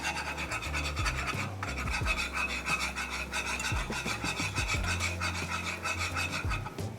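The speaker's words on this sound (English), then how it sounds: "make sure you whisk all that up. You don't want any clumpiness." A whisk scrapes and swirls steadily through flour stirred into bacon fat in a pan for gravy, a continuous close rasping rub with a rhythmic back-and-forth texture.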